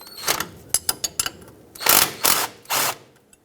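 Ratchet with a 13 mm socket turning a bolt on a 1996-2002 Toyota 4Runner during upper ball joint work, a few sharp close clicks followed by three longer loud ratcheting strokes.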